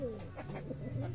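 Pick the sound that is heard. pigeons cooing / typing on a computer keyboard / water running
pigeons cooing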